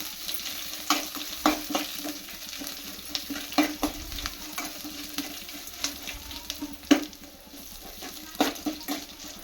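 Green chillies and ginger garlic paste frying in a pan for tomato bath, with a continuous sizzle and repeated sharp spoon-and-pan stirring knocks, close and fairly quiet.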